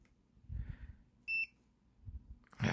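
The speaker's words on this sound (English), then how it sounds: "so it's making a beeping sound" A multimeter's continuity test gives a single short, clear electronic beep once in a quiet room, with faint rustling and handling noises around it.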